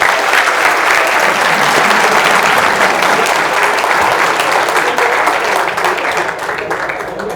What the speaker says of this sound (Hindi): एक बार तालियां बजा दो इन लोग के लिए।